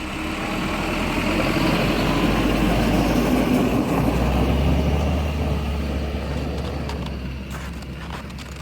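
A vehicle on winter-rated tires drives up a frozen hill, its engine holding a steady, loud low rumble throughout with a slight drop in pitch midway, no voices over it.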